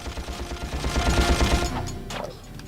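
Bursts of rapid weapon fire in the Ratchet and Clank video game, a close, busy stutter of shots that builds and then trails off into a short whooshing effect.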